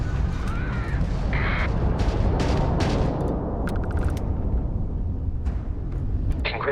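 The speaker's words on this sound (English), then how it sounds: "If you can keep the enemy ship centered on the HUD, we can lock in to fire a homing missile." Space combat in Starfield as a homing missile fires from a starship: a dense, roaring blast and rumble with sharp electronic beeps and bursts layered on top, steady and loud throughout.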